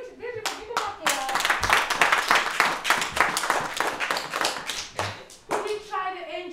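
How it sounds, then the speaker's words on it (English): Primary school class clapping for pupils after their presentations, a lively run of close, sharp hand claps, with children's voices audible at the edges as the clapping stops. "Give them a clap."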